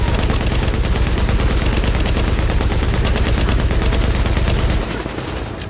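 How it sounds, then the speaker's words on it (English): Sustained rapid gunfire in Tom Clancy's The Division, a dense, loud barrage of shots that runs continuously, then drops off near the end to a quieter tail. "this dude is literally taking hundreds of bullets into his body"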